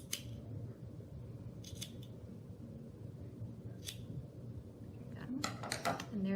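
Scissors snip through yarn loops for a Halloween ghost garland, a few sharp, close clicks spread over a low background murmur, ending in a quick burst of cuts.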